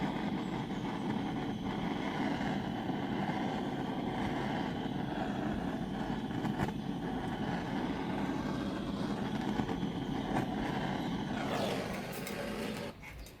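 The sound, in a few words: large torch flame burning, turned right down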